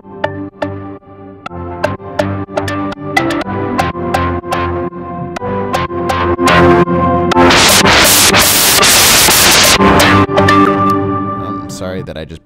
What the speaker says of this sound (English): I'm going to press play with the dry wet all the way down so you won't hear it, and then I'm going to bring it in slowly.